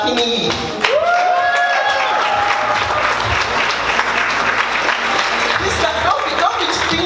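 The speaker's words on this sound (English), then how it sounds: "Don't be stingy with your clapping. Please clap for her." Sustained audience applause at a charity launch event, dense clapping from a crowd that holds steady throughout, with a few whistles and voices rising over it.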